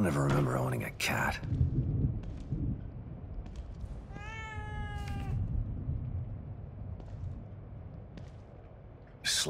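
A cat in The Evil Within 2 gives a single drawn-out meow midway, fairly close, with faint game ambience and a brief voice-like sound at the start.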